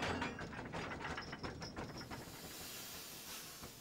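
Edward, an animated Thomas & Friends steam engine, puffs slowly away, his hissing chuffs dense at first and then thinning into a steady steam hiss.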